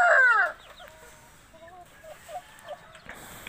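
A backyard flock of pet chickens: a loud rooster crows close by at the start, then hens cluck softly and intermittently in the background.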